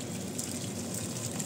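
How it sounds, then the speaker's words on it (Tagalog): Plain water pours from a tap into a pot for a watercress Chinese soup with dried anchovies and scallops, a steady soft gush of liquid filling the pot for a moment. "And I need to add plain water."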